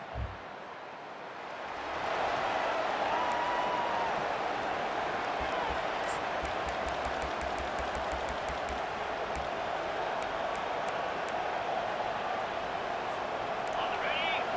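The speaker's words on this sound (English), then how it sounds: "It's early, but this crowd is fired up. Listen to this noise here." Stadium crowd at Doak Campbell Stadium, home of Florida State, in EA Sports College Football 25: a steady, loud roar of fans swelling after a quiet start and holding as a dense wash of cheering throughout.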